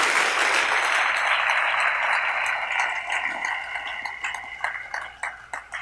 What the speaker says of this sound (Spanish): Denle ese aplauso al Rey en esta hermosa y linda mañana.